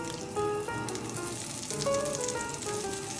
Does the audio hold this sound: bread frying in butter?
yes